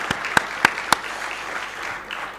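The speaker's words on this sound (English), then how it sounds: "A big round of applause if you guys can provide to them with the excellent support" A few sharp, close hand claps ring out for volunteers and the NOC team at a closing plenary session. Three distinct claps come in quick succession, then give way to faint, scattered background noise.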